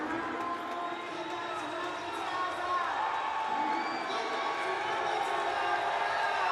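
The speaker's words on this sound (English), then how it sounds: "Crowd rising down below us." Arena football crowd cheering during a Michigan Arsenal versus Nashville Kats game, a broad roar of voices and whoops rising from below, steady and moderately loud beneath a commentator's talk.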